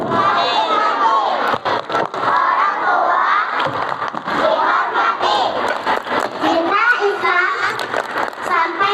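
A large group of children shouts the rhythmic 'tepuk anak soleh' clapping chant in unison, loud and close, with bursts of clapping and crowd noise. The call-and-response chant fills the whole stretch.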